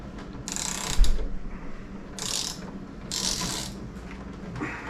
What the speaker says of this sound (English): Take your 17 millimeter socket, press it down, and tighten it as much as you can.